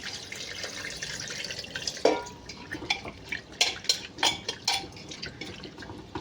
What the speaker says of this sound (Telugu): ఇప్పుడు ఇందులో కొంచెం వాటర్ పోసుకొని కుక్కర్